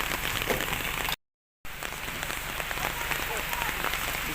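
Rain pours steadily in a dense, even hiss while coconuts are being loaded, with a brief cut to silence partway through before the downpour continues unchanged.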